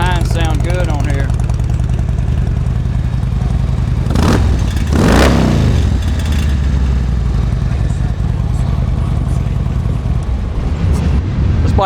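A used Harley-Davidson Street Glide FLHX with Vance & Hines exhaust idles with a deep, steady rumble, then revs hard once in a loud swelling blast before settling back, with someone talking over it.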